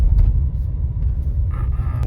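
Skoda car engine running steadily at close range, a continuous low rumble lasting the whole stretch with no voices over it.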